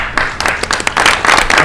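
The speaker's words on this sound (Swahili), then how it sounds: "Makofi kwa wazee wa hapa." An audience claps at a live-streamed famine response gathering, a short burst of dense, loud applause close up with uneven rhythmic peaks and no voices.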